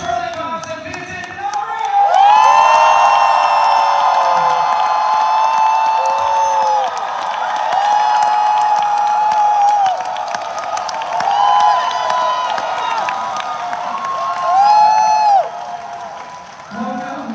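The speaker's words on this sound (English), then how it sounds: "Please give a huge round of applause for Charliecox and Vincent." A packed comic con panel crowd cheers and applauds as the actors are welcomed, loud clapping mixed with whoops and shouts in swelling bursts, with voices and amplified tones layered over the crowd.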